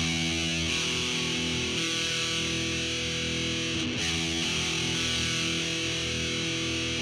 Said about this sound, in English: So let's play those notes individually.